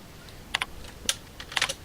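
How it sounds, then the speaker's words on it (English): Someone types on a computer keyboard, with a few quick, light key clicks in small clusters, close and soft in a quiet room. "I will type"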